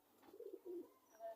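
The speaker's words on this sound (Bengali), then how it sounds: "আমার কাছে আছে গোল্ডেন কবুতর আছে, টেডি কবুতর আছে, জিরে গোল্ডেন কবুতর আছে" Pigeons kept by a fancier, golden and teddy breeds, give soft low cooing in two or three short rounded bursts, close by and fairly quiet, with faint higher chirps near the end.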